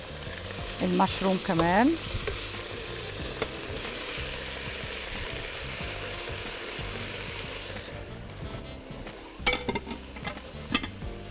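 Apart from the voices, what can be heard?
minced meat frying in a pan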